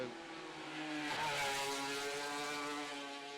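A racing motorcycle at the Macau Grand Prix street circuit passes at speed, its edgy, high-pitched exhaust note swelling loud and then holding as it goes by, with no talk.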